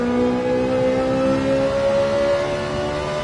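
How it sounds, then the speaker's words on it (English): A Ferrari 458 Italia with a GR4 setup in Gran Turismo 7 holds a steady, sustained engine note whose pitch climbs gradually and then settles near the limit, loud and continuous with no talking. "Now the GR4 for 458 Italia, surprisingly, can't rev it out as much as the GR3 Ferrari"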